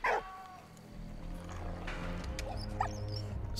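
A dog in the video game Valiant Hearts lets out a sharp bark, then softer whimpers and yips over a low ambient game hum, faint and intermittent.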